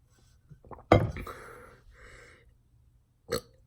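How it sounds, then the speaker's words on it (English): A single loud, guttural human burp erupts close up, followed by fainter breathy sounds and a short second vocal burst near the end, with no other talk. "One last burp."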